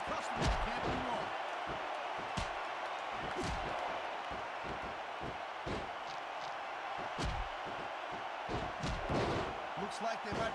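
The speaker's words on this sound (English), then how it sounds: "It sounds like this capacity crowd has something on their minds, Taz." A large video game wrestling arena crowd in WWE SmackDown vs. Raw 2006, during Kurt Angle vs. Bret Hart, roars and murmurs continuously, with repeated heavy slams and thuds cutting through the noise.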